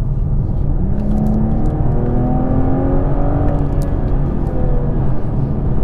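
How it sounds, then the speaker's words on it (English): A BMW M440i engine roars steadily as it accelerates hard, a loud continuous drone with rising harmonic sweeps, close and without any talking. "And what does that sound like? So put my foot down."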